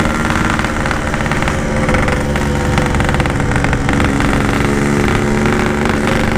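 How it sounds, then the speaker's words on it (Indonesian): Motorcycle engine running poorly with a mistuned carburetor, a loud, steady, rough drone close by with no talk. "Aduh, motor gua nggak bisa lari nih."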